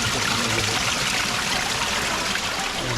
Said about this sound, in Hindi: पानी का आवाज़ भी है,